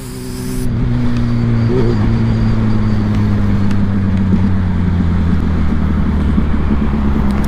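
A black Suzuki B-King 1340 cc motorcycle on a test ride, its engine a loud, steady, close drone with a low throbbing hum and wind rush, holding nearly constant pitch throughout.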